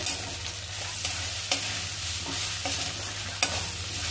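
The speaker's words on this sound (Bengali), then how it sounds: "জিরে গুঁড়ো দিলাম, দিয়ে এবার এটা ভাজবো।" Cumin powder and turmeric fry in a pan with a soft continuous sizzle, while a spoon scrapes and taps against the pan in irregular stirring strokes close by.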